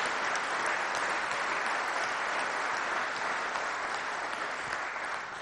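Sustained, even applause from a conference audience for round table participants, a dense continuous patter of many hands at moderate distance, with no voices.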